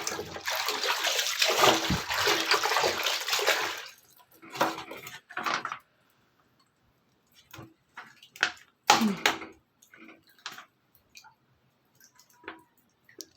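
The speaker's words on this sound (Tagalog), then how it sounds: "Maglalaba ako, tubig lang, walang sabon." Laundry being hand-washed in plain water without soap: steady sloshing and splashing for about four seconds, then scattered wet slaps, drips and clicks at close range.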